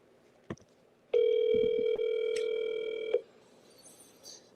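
Ringback tone of a phone call placed on speakerphone, one long steady electronic tone of about two seconds, loud and close, with a short click before it and quiet room sound around it.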